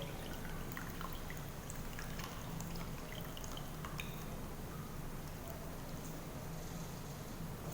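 Water trickles and drips from an absorbent material being squeezed. The soft, continuous pattering runs steadily for several seconds at a low level.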